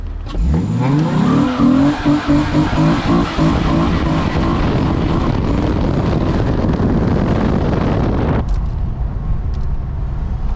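A car's tires spin in second gear: a loud, close engine roar builds with harsh tire squeal for about eight seconds, then cuts off abruptly, leaving a quieter idle.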